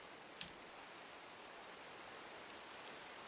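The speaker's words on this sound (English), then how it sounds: "I hate the rain in Minecraft." Steady rain in Minecraft, a faint, even hiss with one brief click near the start and no voices.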